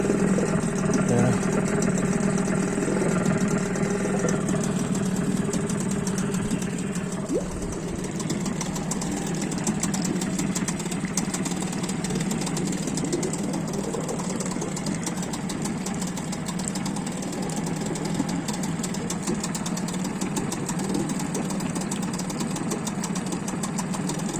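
A Hidea 6 two-stroke outboard motor runs continuously nearby with a buzzing, rattling drone that holds steady as the revs creep up, with someone talking over it.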